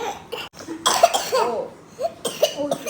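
A small child coughs several times in short, close bursts spread across the clip, with brief pauses between them and no speech.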